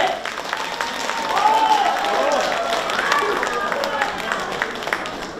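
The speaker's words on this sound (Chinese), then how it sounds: "来，我们的掌声再次送给这群平均年龄75岁的老艺术家们" Audience applause at a Peking opera commemoration event, a swell of clapping from a crowd that builds and then eases, with voices mixed in.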